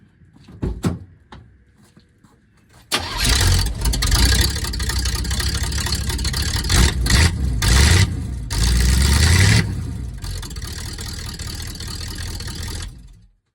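A 1978 Oldsmobile Cutlass with no exhaust system attached is cranked and fires up, then idles loud and raw with a rough, uneven rumble after a few clunks and the starter's whir.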